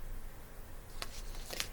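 A deck of cards being shuffled, a soft riffle heard as faint crisp bursts late in a quiet room over low background hum.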